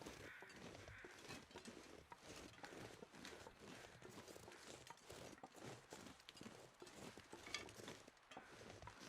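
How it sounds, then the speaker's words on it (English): Crows caw intermittently in the snowy wilderness of The Long Dark, very faint and distant beneath crunching footsteps and a constant windy hiss. "I'm gonna be quiet for just a second and listen for crows."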